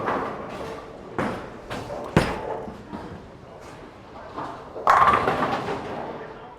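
A hybrid bowling ball rolls down the lane in a bowling alley, heard as a series of dull thuds and a rumbling roll, ending in a louder crash of pins amid ambient alley noise.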